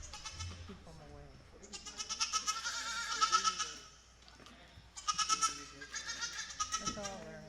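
Goats bleat repeatedly in the show ring at a county junior fair goat show, two loud clustered bursts of nasal wavering calls with quieter bleats between, fairly close.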